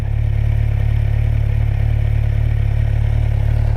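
A 2017 Kawasaki Z1000 motorcycle engine idles close by with a steady, low, rapid thrum that stays even and unchanging throughout.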